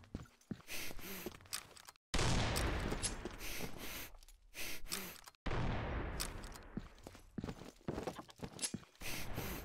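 Gunfire in the online shooter Combat Arms: bursts of rapid automatic shots in long dense volleys, separated by short gaps and scattered single cracks, loud and close.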